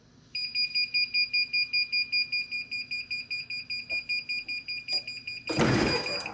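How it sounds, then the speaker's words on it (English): A heat press's electronic timer beeps rapidly and continuously in a steady pulsing rhythm, close by, ending with a brief rush of hissing noise. "Let that beep, because I really want that in there."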